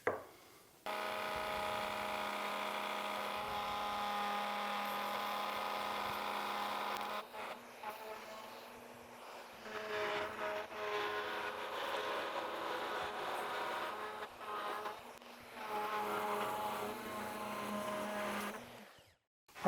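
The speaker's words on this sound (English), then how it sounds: "I'm going to route from one side, and then I'm going to switch the bearing to the top or a different router bit that has a top bearing" A router fitted with a bearing bit cuts a wooden segmented ring, a quiet whining motor that runs steadily for several seconds, drops away, then returns in uneven bursts before stopping.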